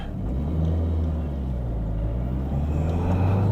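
A car drives by in a parking lot, a low, steady engine rumble close by that swells slightly toward the end, with no talking.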